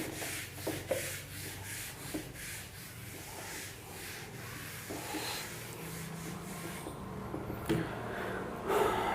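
An eraser rubs writing off a classroom board in repeated strokes, a soft scratchy friction sound close by with faint breathing and room noise.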